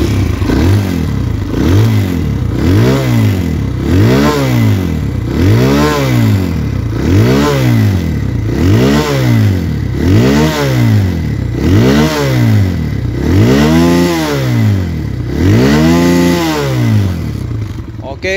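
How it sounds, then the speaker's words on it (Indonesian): A 2025 Kawasaki KLX140R F dirt bike engine, 144cc, is revved repeatedly in a steady rhythm, each blip rising and falling, loud and close. "itu dia suara dari KLX 140 ya."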